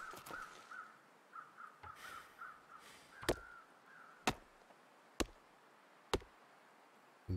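Crows caw in The Long Dark, a run of hoarse calls repeating through the first few seconds at moderate distance, followed by several sharp, isolated knocks spaced about a second apart over quiet wind.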